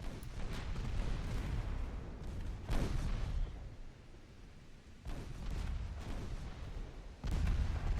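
Heavy naval gunfire between warships in the Ultimate Admiral Dreadnoughts game, with deep booming salvos roughly every two to three seconds over a continuous low rumble of battle.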